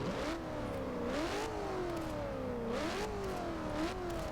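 A 2000 Ford Mustang SVT Cobra R with side exhaust revs in Forza Horizon 2, its engine note climbing and falling in repeated throttle blips, fairly quiet and alone without talk.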